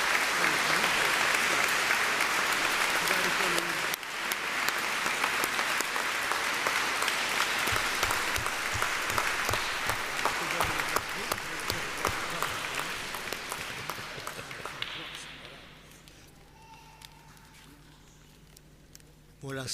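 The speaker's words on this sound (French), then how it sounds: "j'aimerais qu'on l'applaudisse et qu'on lui dise un grand merci" A church congregation applauds during a Sunday service, sustained loud clapping that fills most of the clip, then fades out toward the end as a voice and quieter room sounds come through.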